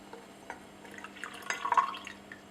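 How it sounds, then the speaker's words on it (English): Water pours into a glass beaker holding a magnetic stir bar, a faint trickle and splash that swells into a brief louder gurgle partway through, with no talk. "now we're going to use 70 ml of water to get this into solution."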